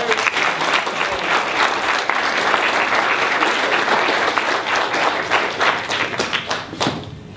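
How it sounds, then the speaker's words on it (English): An audience at a gathering on police terrorism applauds a speaker, a dense sustained round of clapping that tapers off into scattered claps toward the end, with some crowd noise mixed in. "I want y'all to give a strong round of applause for our brother, Ward Churchill."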